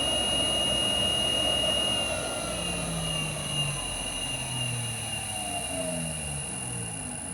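The motor of a 2x72 belt grinder, driven by a variable frequency drive at about 65 Hz, runs with a steady high electric whine and a low hum, continuous and close, with no talking.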